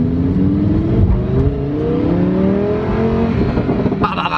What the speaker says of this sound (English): But I'm still driving the Huracan because these things are meant to be driven, people.